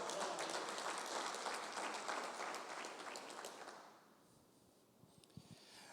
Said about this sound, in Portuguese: Dê as palmas para Ele, diga glória